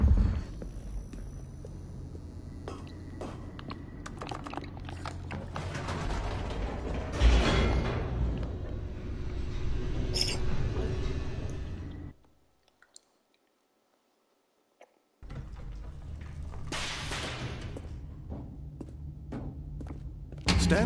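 A large, heavy door in the video game The Stanley Parable grinds and creaks open with mechanical clunks and thunks. Several seconds of silence break the sound before the rumbling mechanism returns.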